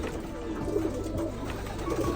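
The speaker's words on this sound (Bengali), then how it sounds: "কবুতর।" Pigeons at a rooftop farm give soft low coos, a few short murmuring calls over a steady background hum.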